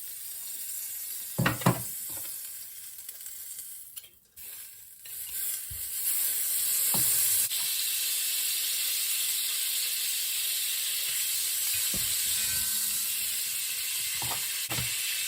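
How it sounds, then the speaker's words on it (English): Two tablespoons of butter melt in a cooking pot for a macaroni cheese sauce, starting after a few knocks and settling into a steady, close, continuous sizzle that lasts to the end. "I am going to add 2 tablespoons of butter in this pot here."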